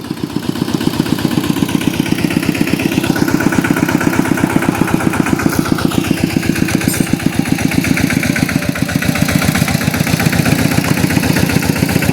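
A tractor engine idles steadily up close, a loud, even low chugging with rapid regular pulses that holds throughout, with no voices.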